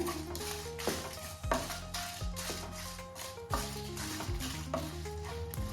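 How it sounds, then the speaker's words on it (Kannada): Dried red chillies and Byadgi chillies dry roasted in a pan, a spoon scraping and stirring in steady strokes with faint sizzling and light metallic clinks, close and fairly quiet, with a tonal musical bed underneath. "ಈಗ ಒಣಮೆಣಸಿನ್ಕಾಯಿ ಮತ್ತು ಬ್ಯಾಡಗೆ ಮೆಣಸಿನ್ಕಾಯಿ ಎರಡನ್ನೂ ಹಾಕಿ ಡ್ರೈ ರೋಸ್ಟ್ ಮಾಡ್ಕೋತೀವಿ."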